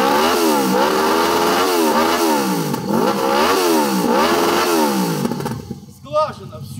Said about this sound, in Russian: заведу, чтобы вы послушали выхлопную систему